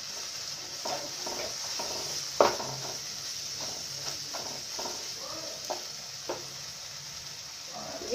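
Oil sizzles softly in a pan while matar paneer is being cooked, with a steady faint hiss broken by occasional light clinks and scrapes of a spoon stirring against the pan.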